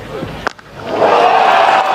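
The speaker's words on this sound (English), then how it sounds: "The biggest cheer of the day greets the first maximum." Cricket crowd in Australia roaring for a six struck by George Munsey, a brief thud then a swelling, sustained cheer filling the stadium, loud and broad.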